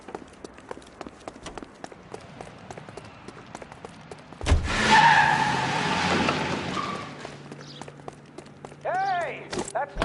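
Car tyres skid loudly in the LA Noire video game during a police chase, a broad screeching burst about midway that lasts a couple of seconds, with gunfire-like hits and game voices around it.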